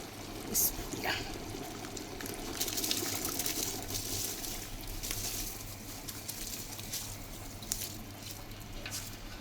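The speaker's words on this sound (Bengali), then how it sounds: "আর দেরি করবো না, চালটা দিয়ে দেবো।" About 1.5 kg of rice is poured into a big pot holding 3.5 kg of cooking meat for tehari, giving a soft, grainy rushing patter with scattered small ticks, fairly faint and continuous.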